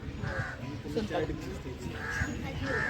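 A crow caws a few times nearby, harsh repeated calls heard over someone speaking during an outdoor camp meditation session.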